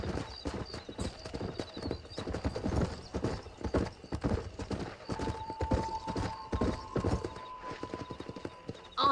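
A horse gallops in Red Dead Redemption, with rapid, rhythmic hoofbeats pounding close and steady for the whole stretch. Faint game ambience sits beneath the hooves, a short whinny-like tone rises midway, and a voice calls out near the start.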